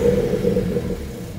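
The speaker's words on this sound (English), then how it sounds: "the way this sounds with the catless downpipes sounds so good. You can hear the turbo so much better" A BMW 335i with the N54 twin-turbo engine and catless downpipes runs nearby, a steady low droning rumble with a sustained tone, no talk.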